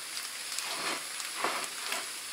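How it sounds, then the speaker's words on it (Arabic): Kefta being mixed with its ingredients in a hot pan, a soft continuous sizzle with faint stirring scrapes, close and steady. "نخلط هذه الكفته مزيان مع المقادير ديالها."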